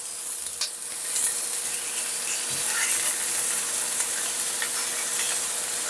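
Scallops sizzle steadily in a hot frying pan, a constant close crackle with small pops throughout, no voices.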